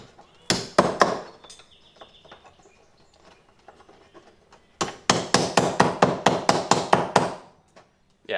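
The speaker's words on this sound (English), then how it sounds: "I should probably straighten those out just a little bit. They are kind of bent. So I'll take a hammer here." A hammer strikes bent metal mounting brackets for a curved LED light bar in a shop. A quick pair of blows comes first, then after a pause a fast run of about a dozen sharp, ringing taps.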